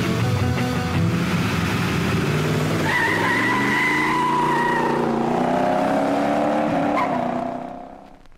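Hopped-up Mustang engine revving as a sound effect within a song, a loud sustained roar with rising and sweeping pitch, a brief squeal-like tone midway, then fading out at the end.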